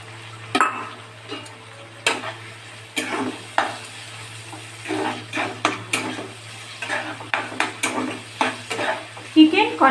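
Chicken kosha with green peas is stir-fried in a pan, with rhythmic scraping strokes and metal clinks over a low steady sizzle and a faint hum, close and uninterrupted by speech.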